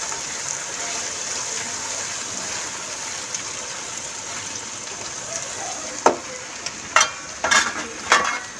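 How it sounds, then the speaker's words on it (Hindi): Ginger garlic paste frying in a pan gives a steady, hissing sizzle throughout, with a few clattering stirs of a spoon near the end. "भून लेंगे अच्छी तरह"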